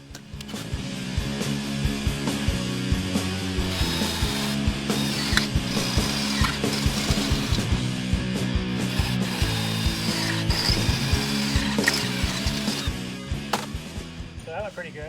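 A power drill bores through an aluminum awning extrusion and its cover into wood, giving a continuous grinding, whirring buzz for about thirteen seconds before it winds down, heard close with no talking.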